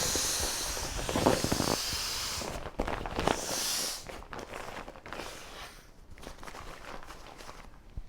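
Air hisses out through the valve of a lightweight folding camping item weighing about 110 grams, a close breathy rush with some handling rustles, fading toward the end.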